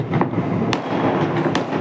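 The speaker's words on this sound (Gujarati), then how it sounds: "જો ઘણા બધા ફટાકડા ફૂટે" Firecrackers bursting during the Sankranti festival, with a few sharp cracks standing out over a constant rumbling, crackling backdrop of distant fireworks.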